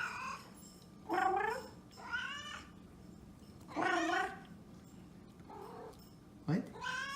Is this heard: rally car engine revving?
no